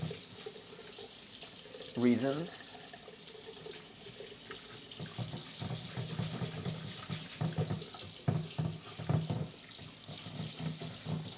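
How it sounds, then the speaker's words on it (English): Tap water runs into a kitchen sink while rice for mango sticky rice is washed and stirred by hand, a steady close stream with sloshing pulses and brief talk early on. "now I'm basically just running the water while stirring my hand around"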